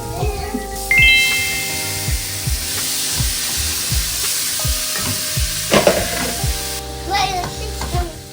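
Onion frying in a pan shaken by hand, no spatula used, giving a steady sizzle with repeated scraping and jolting knocks as the pan is moved, plus a short clatter near the middle.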